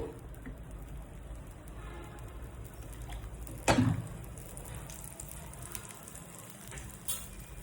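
Masala bread toast with egg frying in oil in a pan, a soft steady sizzle up close with a single sharp clatter midway and a faint tick near the end.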